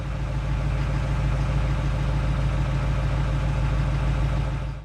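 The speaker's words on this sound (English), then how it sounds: "this is the sound from the exhaust" A Chevrolet Silverado 2500 pickup's 6.6-liter Duramax diesel exhaust idles steadily up close, a deep throbbing rumble with a constant low pulse and no break throughout.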